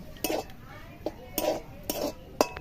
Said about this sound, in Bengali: ওই ক্ষীরটা দিয়ে দেব, ভালো করে মিশিয়ে নেব।